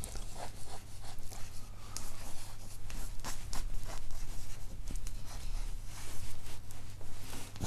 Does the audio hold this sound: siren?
no